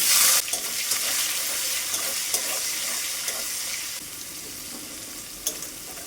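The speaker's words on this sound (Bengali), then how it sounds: "এখন এই কুচিয়ে রাখা পেঁয়াজগুলো দিয়ে দিচ্ছি।" Chopped onions go into hot oil already spiced with cinnamon, cloves, cardamom, bay leaf and cumin, setting off a loud initial burst of sizzling that settles into steady close frying with occasional stirring clicks, with no voices.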